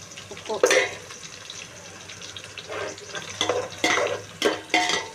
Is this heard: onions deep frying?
yes